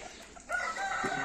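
A rooster gives a brief, nearby clucking call in a short burst after a moment of quiet.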